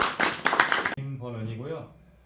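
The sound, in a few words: audience applause at a seminar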